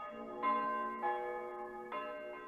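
Merry church bells ringing on a Christmas morning, three clear bright strikes with long ringing tones that overlap and decay, close and moderately loud with no talk over them.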